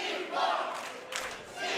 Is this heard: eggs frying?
no